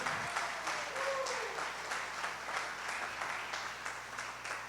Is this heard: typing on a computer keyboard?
no